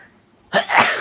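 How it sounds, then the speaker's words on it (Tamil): A single sharp sneeze after eating small onions, preceded by a quiet outdoor stretch, bursting loud and close with a brief two-part explosive rush. "தும்மல் வருது பார்த்தீங்களா?"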